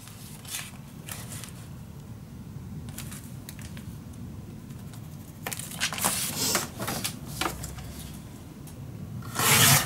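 Paper being cut out for a craft folio: soft rubbing and scraping with scattered crisp snips and rustles, growing louder toward the end with a burst of handling noise.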